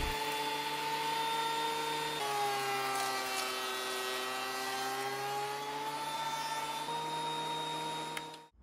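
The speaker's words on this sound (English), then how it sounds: "I decided to pull out the planer and just get them all to a nice uniform size" An electric wood planer runs over oak boards from an old solid oak side table, giving a continuous loud, droning motor whine that shifts in pitch partway through and fades out at the end.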